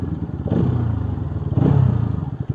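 A Bajaj Pulsar RS200 motorcycle rides through rush-hour traffic, its engine a steady, close, throbbing hum that rises in two short revving swells with some rattling clatter.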